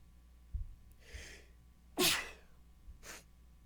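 A single sharp, loud sneeze bursts out mid-clip, preceded by a soft gasping intake of breath and followed by a quieter sniff, during a sports talk podcast.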